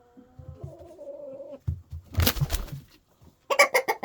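Roosters squabble in short, harsh bursts: a drawn-out squawk, then a flurry of scuffling and clucking, and a final burst of sharp, loud cries, close by.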